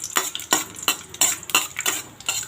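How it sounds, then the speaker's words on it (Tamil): Cashews and raisins stirred as they fry in ghee for white pumpkin halwa, a spoon scraping the pan in regular strokes about every third of a second, close and clear over a faint sizzle. "இதை நல்லா மிக்ஸ் பண்ணிக்கலாம்"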